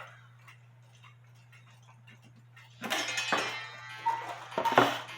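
A cuckoo clock ticks faintly and steadily, then louder clattering and clinking follow as it is handled.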